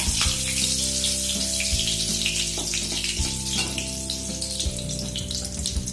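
Green chilies sizzle in hot oil in a pan while chilli paneer is being made, a loud, steady crackling fry with bright spattering pops and a low background hum.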